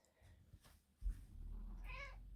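A cat gives a single clear meow near the end, preceded by soft rustling and low handling noise in a quiet room, close and faint overall.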